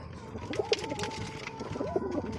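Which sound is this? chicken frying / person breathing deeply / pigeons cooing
pigeons cooing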